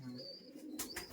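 Giribaz pigeons at a Murshidabad pigeon sale in West Bengal give a faint, brief low coo, heard alone and quiet with a couple of soft rustles near the end.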